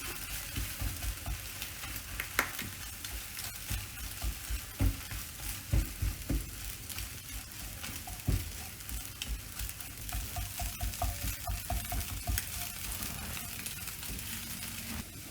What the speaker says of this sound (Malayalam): ഇതാണ് ചിക്കി പൊരിക്കൽ മുട്ട